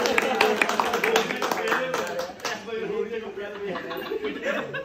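A group of people claps for a village head at his birthday party, a brisk burst of close hand claps with chuckles and voices mixed in, fading into chatter partway through.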